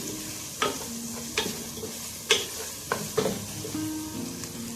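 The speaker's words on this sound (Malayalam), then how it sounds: "ഹാഫ് ക്യാരറ്റ് ഗ്രേറ്റ് ചെയ്തതും കൂടി ചേർത്ത് കൊടുത്തിട്ട് നല്ലപോലെ ഒന്ന് വഴറ്റി കൊടുക്കണം" Grated carrot sautéing in a pan for chicken majboos: a continuous soft sizzle broken by a handful of sharp scraping stirs of the spoon against the pan, close and fairly quiet.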